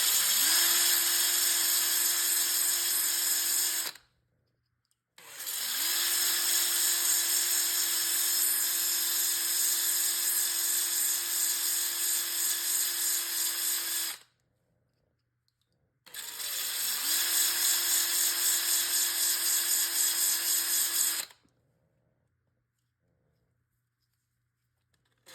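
A rock is pressed against a wet 30 grit grinding wheel that runs in three separate stretches of several seconds each. Each run opens with a rising whine, holds a loud, steady, buzzing grind and stops abruptly into silence.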